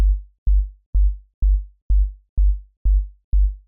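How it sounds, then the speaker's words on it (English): A deep synthesized sub-bass note at G0, struck eight times in a steady, even rhythm, each hit decaying quickly into silence; clean and alone. "We've got a MIDI note here, G0, and it sounds like this."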